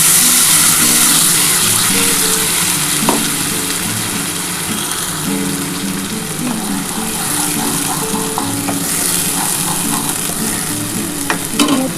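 Fresh spinach hits a hot pan for palak paneer, crackling and frying steadily with broad sizzle and intermittent scraping stirs, loud and close throughout with no talking.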